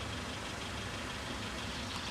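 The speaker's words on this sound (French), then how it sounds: "Le moteur est allumé, il attend." Car engine idling in a station parking lot at Gare du Vert-Galant, a steady, unbroken low rumble with broadband noise and no voices.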